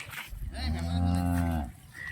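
A farm cow gives one long, deep moo close by, the low drawn-out call swelling and fading over about a second, with faint background noise around it.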